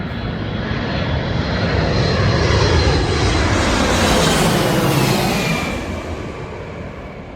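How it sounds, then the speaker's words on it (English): A United Airlines Boeing 767 jet near Heathrow Airport passes close by, a loud, steady roar that swells to a peak midway and then slowly fades, with no talking. "And coming up, United Airlines, Boeing 767 from Washington DC."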